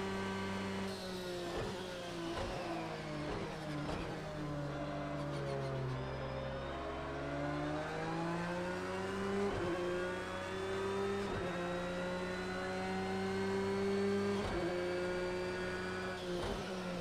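A race car in Project Cars 2 revs and shifts through gears around the Fuji circuit, its engine whining up and dropping at each change, loud and continuous for the whole stretch with no talking.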